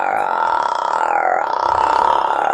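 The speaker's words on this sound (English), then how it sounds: "we're going to stretch and relax the vocal cords using a technique called the vocal fry" A single voice sustains a low, crackly vocal fry, a rough, rattling growl held steadily for a couple of seconds, close and fairly loud.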